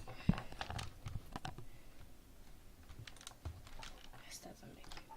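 A computer keyboard being handled and typed on up close, irregular clicks and taps with a few louder knocks, while a voice murmurs faintly underneath.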